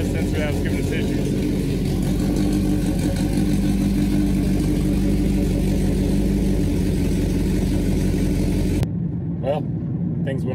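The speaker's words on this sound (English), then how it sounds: "the car sounds great" A Honda EG hatchback with a swapped K24 engine runs with a steady, close mechanical drone for most of the clip, then cuts out near the end, with a voice talking over it.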